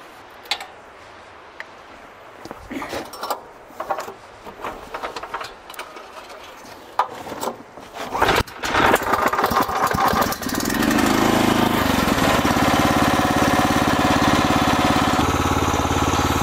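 A Jansen RD300 Pro mini dumper engine being started: clicks and rattling handling noises give way to the engine catching and settling into a loud, steady running drone close by.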